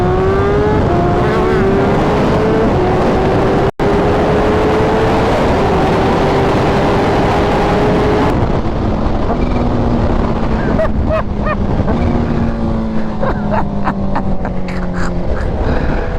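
A Kawasaki Ninja H2 motorcycle, ECU-flashed, dyno-tuned, lowered and re-sprocketed, pulls hard through second gear at about three-quarter throttle, its engine note climbing in a long steady rise under loud wind noise, then easing to a lower drone with a brief dropout midway.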